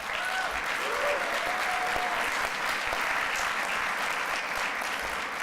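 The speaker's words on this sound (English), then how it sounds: "Give them a round of applause." Steady round of applause from a convocation audience at a graduate studies awards ceremony, dense and continuous clapping filling the hall throughout.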